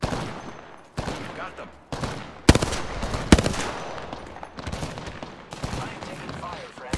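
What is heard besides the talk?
gunfire from a video game, King's Canyon map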